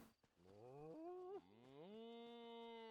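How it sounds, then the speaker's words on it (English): A cow lowing in the video game Necrom: one long, drawn-out moo that rises in pitch partway through and holds steady, loud and close with no other sounds around it. "Okay, this is the cows."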